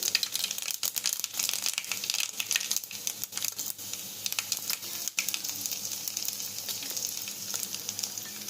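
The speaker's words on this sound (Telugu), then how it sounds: "జీలకర్ర ఆయిల్ బాగా కాగింది దాంట్లో ఆవాలు వేస్తున్నాం అలాగే ఎండుమిర్చి" Mustard seeds and dried red chilies sizzle and pop in hot oil for a Telugu moringa-leaf fry, a steady frying hiss broken by sharp crackling spits throughout.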